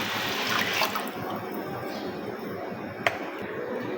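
Water poured into a cooking pot holding half a kilo of masoor lentils for daal and rice, a steady splashing stream that runs throughout, close by, with one sharp clink of the pot partway through.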